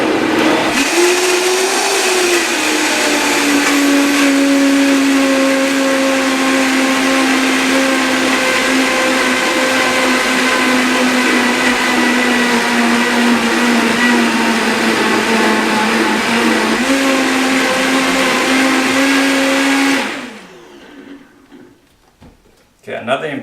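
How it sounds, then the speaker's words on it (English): Vitamix blender whirring loudly as it purees curried butternut squash soup, a steady high motor roar with a shifting pitch for about twenty seconds, then cutting off abruptly, followed by a few light clunks. "I'm going to use the Vitamix spindle here, so once it's blended I can push again in the corners."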